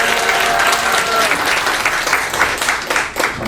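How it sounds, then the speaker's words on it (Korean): An audience claps for a pastor being welcomed at a church conference in Gwangju: steady, dense applause from a crowd indoors, loud and continuous for several seconds. "자, 박수로 환영하겠습니다."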